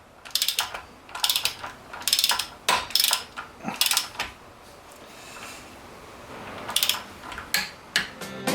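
A torque wrench ratchets while tightening cylinder head bolts on a turbocharged BMW E36 engine, giving repeated bursts of close, bright metallic clicking with short pauses between pulls.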